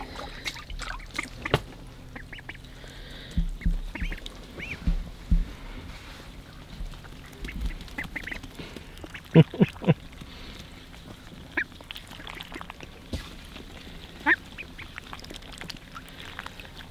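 Ducks quack in short scattered bursts around a duck pen where young ducklings have recently hatched, with light splashing and shuffling sounds in between the calls.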